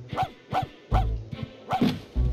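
Dog barking in a Grinch video game: four or five sharp, close barks in a quick uneven rhythm, with no talk over them.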